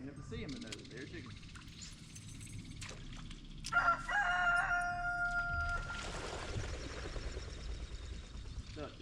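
Roosters crow near a lake during a bass fishing tournament weekend, a clear crow rising midway and trailing off over outdoor noise and talk.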